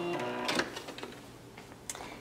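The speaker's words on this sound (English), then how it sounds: "Let's sew our hanger on here." A home sewing machine stitches a fabric hanger loop onto a Christmas stocking, giving a short burst of fast mechanical whirring and clicking, followed by a pause and one more brief pulse.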